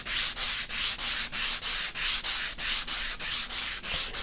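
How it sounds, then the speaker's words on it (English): A sanding sponge lightly rubbed back and forth over a surface to distress it, a close, even rasping repeated in a steady rhythm of about three strokes per second. "I'm going to grab a sanding sponge here."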